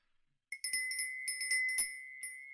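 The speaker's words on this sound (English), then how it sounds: "I've got a bell, and I can ring it too" A small hand bell rung in a string of bright, ringing strikes, one steady tone with overtones, close and clear with no talk.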